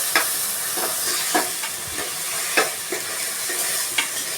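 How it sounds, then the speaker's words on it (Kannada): Ground masala for tomato bath frying in a pan, a soft continuous sizzle broken by repeated light scraping and stirring clicks at an uneven rhythm, close and without talk. "ಈಗ ನೋಡಿ ಹಸಿ ವಾಸನೆ ಹೋಗೋವರೆಗೂ ನಾವು ಉರಿಬೇಕು"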